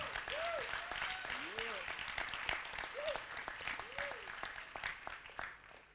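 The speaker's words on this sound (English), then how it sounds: "So please give him a big round of applause." An audience gives a round of applause at a spiritual lecture, with claps steady and moderately loud across the whole stretch while brief whistle-like tones and some voices rise over it.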